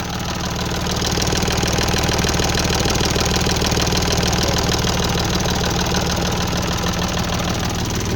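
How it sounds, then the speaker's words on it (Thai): Yanmar 35 hp three-cylinder tractor engine idling up close, a loud, steady diesel chug with rhythmic knocking pulses that holds constant throughout. "เครื่องยนต์สามสูบนะคะ"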